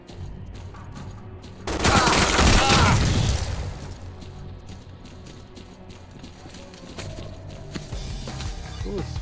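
A sudden loud burst of rapid gunfire in STALKER: Clear Sky with the Arsenal Overhaul mod, lasting about two seconds, then quieter game sounds and faint activity continuing afterward.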